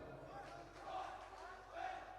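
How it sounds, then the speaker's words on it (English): A school crowd cheers in a gym during a high school varsity volleyball match, a faint, distant, swelling chant rising twice in reverberant space. "Calvert Hall with the great cheer."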